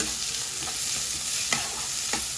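Curry leaves and green chillies sautéing in hot oil in a pan, a loud continuous sizzle and hiss with a few brief stirring scrapes, no voices.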